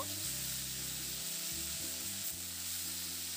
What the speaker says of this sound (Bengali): লবণ আর হলুদটা দিয়ে শিমটাকে নাড়াচাড়া করে খুব ভালো করে একটু ভাজা ভাজা করে নিতে হবে